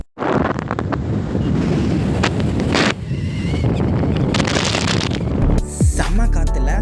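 Strong wind roars and buffets the microphone at a hilltop viewpoint near Manimuthar, loud and continuous with brief gusty swells and dips.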